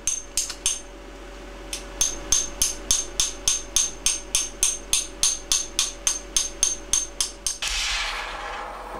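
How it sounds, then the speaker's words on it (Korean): A medium hammer strikes a small silver reliquary less than 7 cm tall, shaping its curve with about twenty bright, evenly spaced metallic taps in a steady rhythm, close and alone, ending in a brief hiss. "망치질만으로 곡선을 그려내야 합니다."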